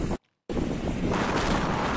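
Strong wind roars across the microphone as high waves crash along the rough Alexandria sea coast. The sound is loud and continuous, broken only by a brief dropout near the start.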